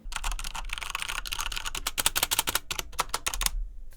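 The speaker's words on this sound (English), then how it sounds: "And to a common gaming keyboard." Rapid typing on a common gaming keyboard, crisp clacking keystrokes in quick irregular bursts, close and clear with nothing else around them.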